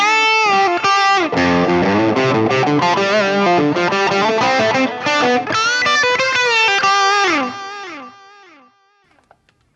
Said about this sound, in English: our delay switches over to a digital stereo delay set to a quarter note of our BPM